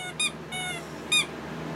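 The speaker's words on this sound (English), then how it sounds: "Fang, give me that squeaky toy." Three squeaks from a dog's squeaky toy, a short one, a longer drawn-out squeal, then a final sharp squeak, fairly close and clear with no talking.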